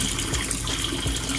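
Aquarium filter cartridges are rinsed under running water, a close, steady splashing gush lasting only a moment.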